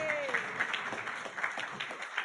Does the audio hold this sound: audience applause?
yes